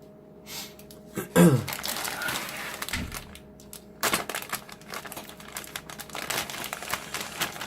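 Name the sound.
ripping open packaging of a model kit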